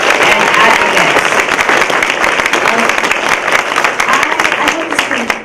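Sustained applause from a sizable crowd in a college audience, many hands clapping in a dense, steady roar that holds throughout, with faint voices mixed in.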